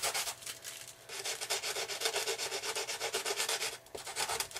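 The wing of a Canadair RC model airplane is hand-sanded before gluing, heard as close, rhythmic rubbing strokes in quick succession with a brief pause partway through.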